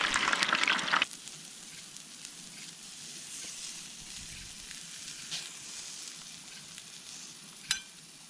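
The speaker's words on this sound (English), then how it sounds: "So the steaks are on. We're gonna let them go about 10 minutes on this side" Steaks frying in a pan crackle with a loud burst of sizzle at first, then settle into a quieter steady hiss with occasional pops.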